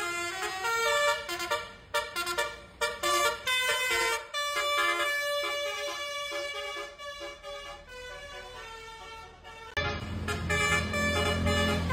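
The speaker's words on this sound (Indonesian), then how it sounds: "suasana di halaman depan pertokoan yang mendadak ramai dengan suara klakson telolet bus" A bus telolet horn plays loud melodic tooting tunes in front of a row of shops, in repeated bursts and sustained chords with brief gaps, followed by a deeper engine-like rumble at the end.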